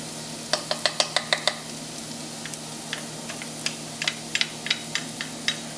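Onions and garlic sauteing in a pan, heard as soft crackling sizzle broken by repeated sharp, evenly spaced clicks and taps of a utensil against the pan, close and fairly quiet with no talk.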